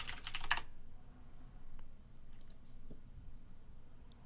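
Typing on a computer keyboard while entering a search in a new browser tab, a dense burst of fast clicking keystrokes in the opening half second, then only faint, scattered clicks in a quiet room.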